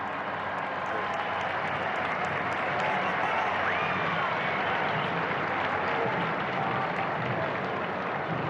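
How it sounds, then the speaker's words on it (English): A huge outdoor crowd awaiting the announcement of a new pope roars and claps in a steady, dense wash of cheering that holds at the same loud level throughout, with scattered voices rising out of it. "Let's just listen to the cheers of the crowd for a moment"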